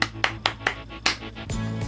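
A single pair of hands claps about five times in a quick, evenly spaced series, each clap crisp and close, followed by a short tonal sound.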